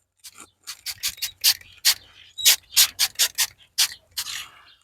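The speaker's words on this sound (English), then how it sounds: "We're going to come in with the brush and rub that in." A brush scrubbing Cerakote ceramic coating into a tire, a close series of quick rasping strokes in an uneven rhythm, each burst short and scratchy with brief pauses between.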